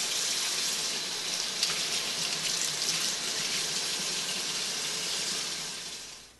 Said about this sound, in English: just rinse the leaves, individual leaves, under running water, cold running water